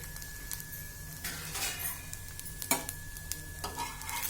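An avarekai dosa made with hyacinth beans cooks on a hot pan with a steady soft sizzle, broken by a few close scraping and clinking strokes from a spatula.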